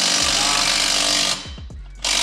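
Makita impact wrench on SUV exhaust bolts: a loud, close, rapid hammering burst, a short stutter of separate impacts as it stalls, then the hammering resumes.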